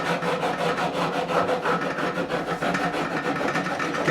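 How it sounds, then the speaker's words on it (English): A fret leveling file rasps steadily back and forth across the frets of a 1957 Hofner President guitar being refretted, with close, even, rhythmic strokes and no talking. "And this is my fret leveling file."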